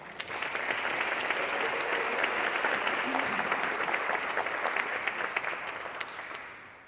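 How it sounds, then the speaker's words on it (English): An audience applauds a high school chamber choir performance inside a church, with dense, sustained clapping that swells and holds for several seconds before gradually fading, reverberant and without talk. "please give them a round of applause"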